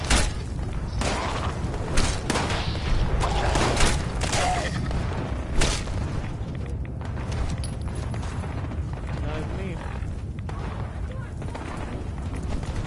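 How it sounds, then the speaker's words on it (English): Robots fire shots in Fallout 76 around Whitesprings, giving scattered sharp cracks and thumps at irregular intervals over a dense, continuous game background. "Hear the shots going off"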